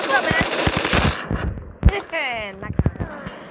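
Rapid automatic gunfire from a Call of Duty match rattles in a dense burst, followed by a few scattered louder shots and game effects, with voices talking over parts of it.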